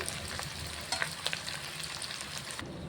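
Ghee and oil sizzle steadily in a pan while bagara rice is being prepared, a close, even crackle broken by a few brief spoon clinks and small pops, with no voices.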